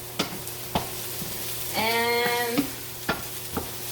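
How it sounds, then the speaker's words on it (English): Garlic frying in a pan for a Thai chicken basil stir-fry: sharp utensil clicks against the pan recur every half second or so, and a brief squeaky tonal whine rises midway. A single word is spoken. "I fried the garlic."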